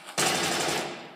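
A SCAR rifle fires in Battlefield 3, one sudden loud, dense burst that sets in sharply and decays over about a second.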